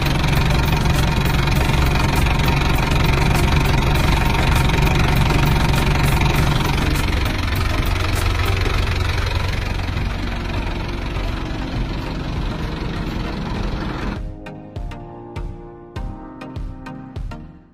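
An Isuzu Elf Short truck engine idles loud and close with a steady dense rumble and knocking texture for about fourteen seconds, then cuts off into fading ringing clanks.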